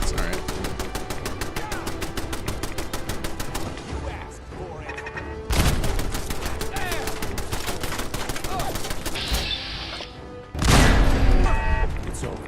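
Turret gunfire in Fallout 4 with Sim Settlements 2, heard as loud rapid automatic bursts that rattle on for several seconds, break off, then resume with heavy crashing impacts, close and dense throughout.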